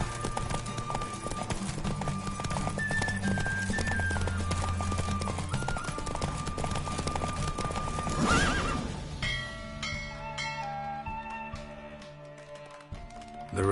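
Roach the horse races in The Witcher 3, galloping with rhythmic clip-clop hoofbeats under a loud whinny and a busy game soundtrack, then a bell-like chime as the race ends.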